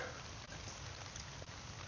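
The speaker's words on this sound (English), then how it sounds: "Bright and sunny and raining doesn't happen too much around here." Rain falling during bright sunshine outdoors on a trail, a soft, steady hiss of drops with a few faint pattering ticks, quiet and with no one talking.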